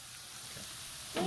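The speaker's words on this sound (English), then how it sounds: "And then you're just going to saute this really quickly." Sweet onion sautéing in a pan for a keto Philly cheesesteak filling, a soft, faint sizzle that swells briefly louder near the end.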